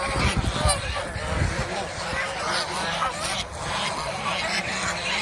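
Ducks at a hobby duck farm, close to laying age, honk and quack loudly in a dense, overlapping flock chorus while someone talks over them.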